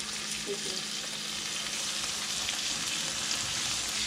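Shrimp with tails left on fry in a pan, giving an even, dense sizzling hiss that holds steady throughout, close and moderately loud.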